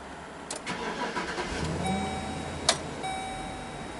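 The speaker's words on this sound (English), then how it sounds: "And the truck runs." A Chevy Express van with an intermittent no-crank fault cranks briefly and catches, its engine running on steadily at a moderate level, with a sharp click partway through and a faint warning chime repeating.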